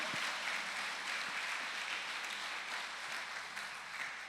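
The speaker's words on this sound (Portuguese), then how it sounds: "Então você aplauda Jesus para a glória do nome dele." Congregation applauding in a church service, a steady, fairly faint wash of clapping that holds evenly from start to finish with no voices over it.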